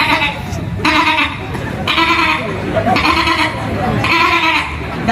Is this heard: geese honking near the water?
no